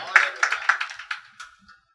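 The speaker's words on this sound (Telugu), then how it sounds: "చప్పట్లు కూడా దేవుని మహిమపరచండి." A church congregation claps in a short burst, about eight sharp, fairly close claps that quickly thin out and fade to silence.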